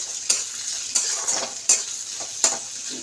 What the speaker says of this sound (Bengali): তো পেঁয়াজটা ভাজা ভাজা হচ্ছে